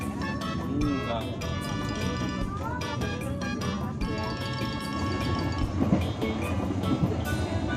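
Inside the Bengawan passenger train as it runs, a steady rumble carries repeated rhythmic rail clicks and tonal whining, with voices and tonal sounds layered over the travel noise throughout.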